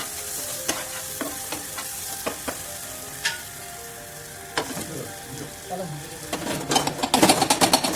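Spices with coriander powder fry and are stirred in a pan, a steady sizzle with scattered sharp spoon scrapes that quicken into busy clattering stirring near the end, close and clear.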